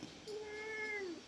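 A cat gives a single drawn-out, rising-then-falling meow, fairly faint and close, alone without any talking.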